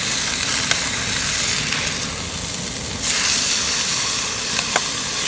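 A ribeye steak sizzles in a pan outdoors in the countryside, a loud, steady hiss with a few sharp crackles and a swelling burst partway through, with no voices.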